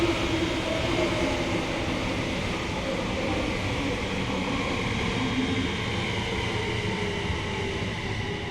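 A British Rail Class 377/379/387 electric train rolls in to a station in a train simulator game, a steady loud rumble and wheel hiss holding unbroken throughout with no talking.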